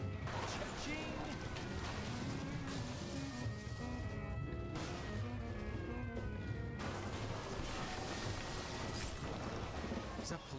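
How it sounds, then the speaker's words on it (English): A police siren wails with rising and falling tones in the video game Deliver At All Costs, buried in a dense, loud mix of crashes, engine rumble and chaotic game noise. "Is that police siren for me?"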